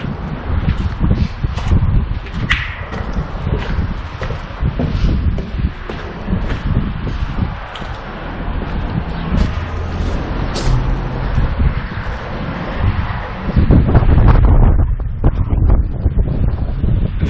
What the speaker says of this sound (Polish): wiem, że strasznie dmucha.